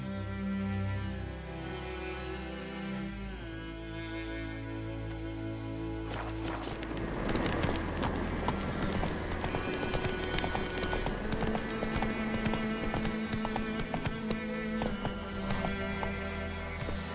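Horse galloping in The Witcher 3: Wild Hunt, starting after a quieter stretch of music and then a rapid, steady clip-clop of hooves over the game soundtrack, continuing loudly to the end.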